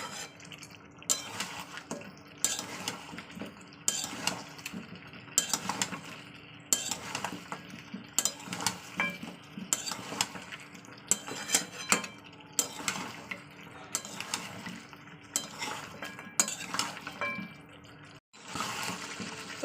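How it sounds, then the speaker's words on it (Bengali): Potatoes and bottle gourd sautéed with spices in a pan, stirred with a utensil that gives soft, irregular scrapes and light clinks against the metal at close range, fairly quiet and without talk. "আমি 1 থেকে 2 মিনিট আমি কষিয়ে নিয়েছি ভালো করে মশলার সঙ্গে আলু আর লাউ"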